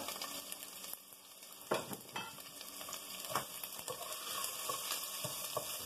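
Chopped onion hits a hot pan for stuffed poblano chiles and sizzles steadily, with a few sharper crackles and the clink of a utensil against the pan.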